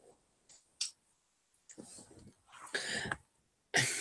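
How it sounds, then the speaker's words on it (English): A single person coughs and clears their throat in a quiet room, producing a few short, soft bursts spread across a few seconds, close to the microphone. "Even though I really need to cough right now."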